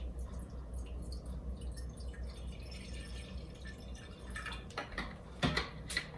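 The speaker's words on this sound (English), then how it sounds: "So we're gonna pour some water in here." Water is poured into a container for a children's science demonstration, a faint trickle that grows into sharper splashes and drips near the end, with a low steady hum underneath.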